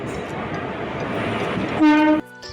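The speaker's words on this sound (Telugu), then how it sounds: "ఇదే మనం ప్రయాణం చేసే ట్రైన్ వచ్చేసి" A passenger train rumbles steadily as it pulls into a station, then a loud horn blares for a moment before cutting off abruptly.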